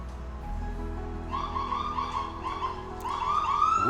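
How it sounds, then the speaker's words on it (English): An ambulance siren wails faintly in the distance, its tone climbing and cycling over a low background hum without any voices. "Whoop whoop, that's a ambulance."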